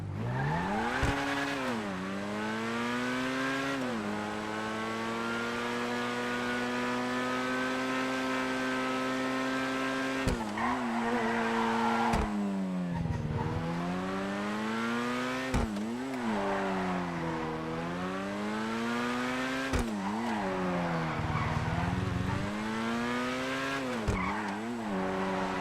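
The Corsetta race car in a video game revs hard through its gears, a loud whining engine climbing and dropping in pitch with sharp shifts and occasional tire squeal, close and continuous.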